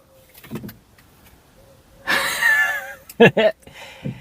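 A CD player in a VW Polo ejects a disc: a short whirring motor whine followed by a couple of quick mechanical clunks, close inside the car cabin.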